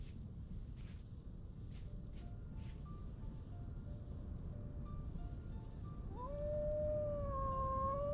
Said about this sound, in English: Okay, no, that's our dog.